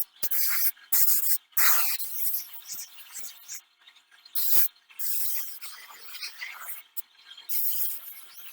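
Bursts of aerosol spray primer hiss in short, close bursts separated by pauses while primer coat goes onto Fordson tractor wheels.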